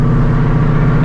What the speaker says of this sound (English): all you hear is the exhaust